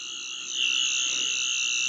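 A Doctor Who sonic screwdriver toy prop in the TV movie style gives off a loud, steady, high electronic whine that swells after a brief start and holds on.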